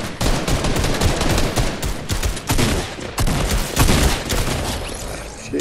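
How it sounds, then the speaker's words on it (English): Rapid, dense gunfire in the Fortnite video game, loud continuous bursts of automatic shots and booming reports layered over each other, with no voices. "Shooting, they're shooting."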